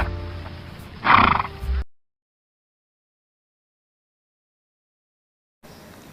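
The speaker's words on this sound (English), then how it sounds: "H for horse" A horse gives a single loud, close whinny lasting under a second, followed by several seconds of silence and a faint return of background sound at the end.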